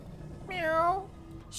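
A single cat meows in the fantasy role-playing game Baldur's Gate 3, one clear, rising-then-falling cry lasting about half a second, close and fairly loud over quiet background ambience.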